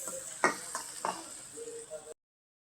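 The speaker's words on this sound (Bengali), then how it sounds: "এখন পেঁয়াজটা ভাজা করে ভাজা নিব" Chopped onions frying in a pan of hot oil, a soft steady sizzle broken by a few brief stirring scrapes, with no voices.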